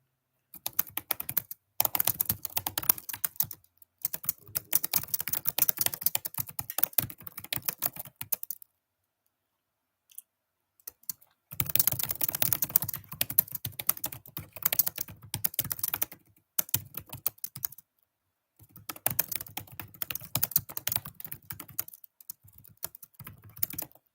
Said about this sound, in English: that typing sound is not necessarily easy to listen to